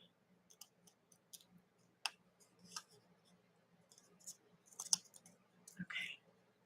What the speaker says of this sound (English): Separating die cut stuff